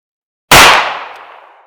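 A single loud shot from a Ruger Security Six revolver fired single action, one sharp close blast after silence, then a long decaying ring-out tail.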